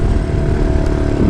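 A 125cc naked Kawasaki Z motorcycle engine running, a loud close steady buzzing drone with no talking over it.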